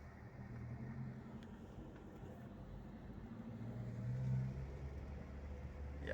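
Manual car pulling away in first gear during a driving lesson: a low, steady engine hum from inside the cabin that swells gently as the car moves off, with no talking.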